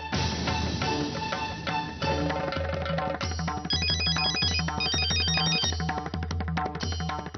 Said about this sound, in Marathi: बघ, सत्यजितचाच फोन आहे.